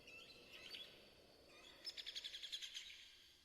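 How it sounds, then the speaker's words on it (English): A parrot in the Metal Gear Solid 3 jungle gives quiet chirping calls, then a rapid run of about eight sharp, evenly spaced squawks, faint over soft ambient game background. "it was his parrot that makes a noise"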